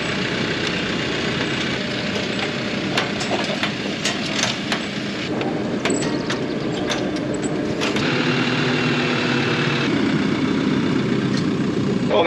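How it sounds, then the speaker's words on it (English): A tractor engine runs steadily while driving through a vegetable field during planting, a constant loud mechanical drone with rattling and clanking from the equipment throughout. "now you're riding in the tractor with me"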